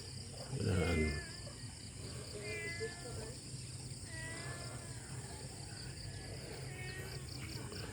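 A few soft, rising meows from a cat repeat at intervals, set against a constant chirring of insects outdoors.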